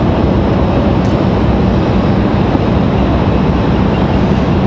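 United Boeing 737 Max 9 airliner taxiing at Raleigh-Durham airport, a loud, steady broadband engine roar that holds constant throughout with no talk.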